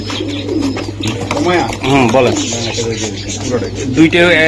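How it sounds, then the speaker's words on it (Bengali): Racer pigeons at a pigeon sale coo and murmur close by, their soft calls running under steady conversation from people bargaining nearby. "অনেক সুন্দর ভাই কবুতরটা"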